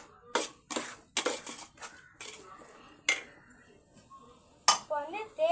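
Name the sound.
stirring biryani ingredients in a pot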